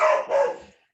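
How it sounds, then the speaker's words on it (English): A dog barks wildly at someone at the door, two quick loud barks close by that fade out. "Now that's somebody at the door, so that's the dog going wild."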